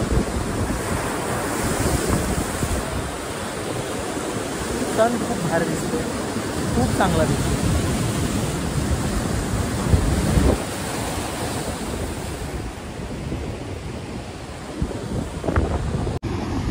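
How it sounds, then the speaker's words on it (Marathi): Sea waves surge and wash in repeatedly on the beach at Devbag at sunset, with strong wind buffeting the microphone and a person talking over the roar. "बघू शकता तुम्ही ह्या लाटा"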